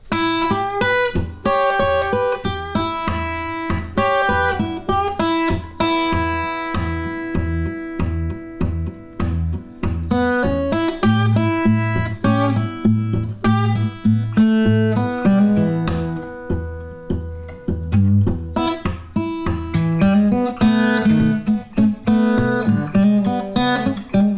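A guitar plays a 12-bar melody over a thumping, steady bass line, with notes picked rhythmically in a lively, continuous pattern.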